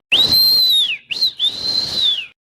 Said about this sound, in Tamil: விசில் ஊதுறவ வந்துட்டான்